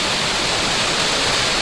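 Steady broadband rush of a small monsoon waterfall in the green Konkan countryside, a continuous loud wash of falling water with no voices.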